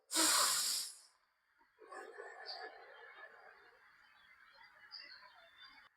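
After a yoga exercise, one loud, forceful exhale comes first, close to the listener. Several seconds of softer, airy breathing follow.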